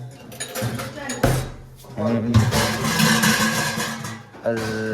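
Cooking pots and utensils clatter and knock in a home kitchen during tea making, a run of loud metallic clanks and scrapes close by, with people talking over part of it.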